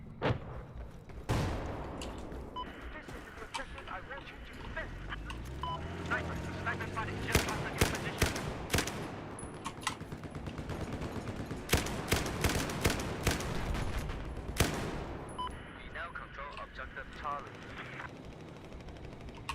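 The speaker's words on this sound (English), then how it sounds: "He's shooting at me." Enemy gunfire in a video game, with rapid bursts of automatic shots and single loud cracks repeating throughout. A player talks over the firing.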